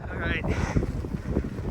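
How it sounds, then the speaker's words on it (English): Wind gusts during a snowstorm hike at Minneopa State Park, a loud blustery rumble buffeting the microphone while a person briefly speaks. "Wind, snow stopped, but the wind's still going"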